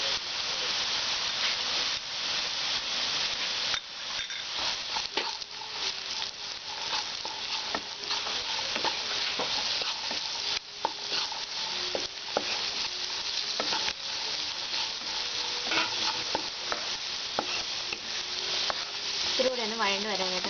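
Mixed vegetables sauté in a pan for Kerala-style vegetable fried rice: a constant close sizzle with occasional stirring scrapes, and no one talking.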